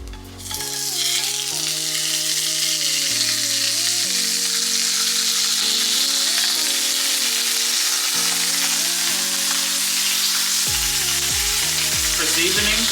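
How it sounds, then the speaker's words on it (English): Beef burger patty sizzling loudly in a hot skillet, a constant close, bright frying hiss throughout with faint stirring, while a steady tonal hum rises and falls in steps underneath. "let's go ahead and put the burger in the pan."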